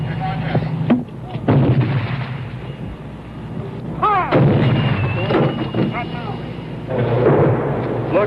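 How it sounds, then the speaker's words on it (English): 105-millimeter howitzers firing shells, heavy booming blasts in separate bursts with rolling rumble, mixed with voices and shouting from the crew nearby. "105-millimeter howitzers hurl their shells into the attacker's firing position."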